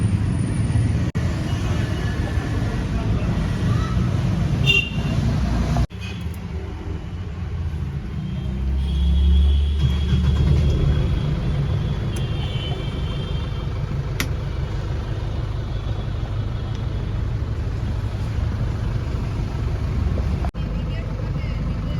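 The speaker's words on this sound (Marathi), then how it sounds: "आता इथं आपण काढतोय गाडी निघू आता आपण." A car engine is started and runs steadily with a low rumble, briefly revving, as the car pulls away from a house; a voice speaks over the engine noise.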